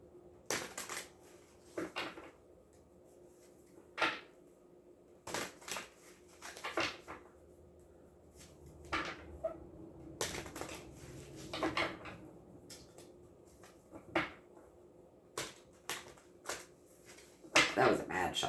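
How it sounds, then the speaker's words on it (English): Tarot cards shuffled by hand, giving a run of close, soft riffling and rubbing bursts in irregular spurts, with quiet talk in between. "That was a mad shuffle."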